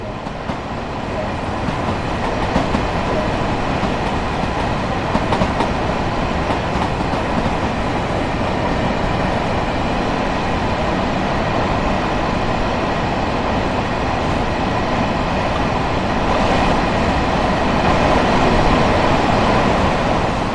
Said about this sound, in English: Trainsim World allows you to ride and drive trains